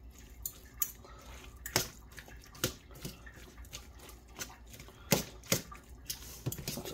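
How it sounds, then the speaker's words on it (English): Two forks tear apart cooked Texas-style pulled pork, giving wet, squelchy rips and sharp metallic scrapes and taps in irregular bursts, close up with no voices. "just go in with two forks, find the pieces and rip them apart"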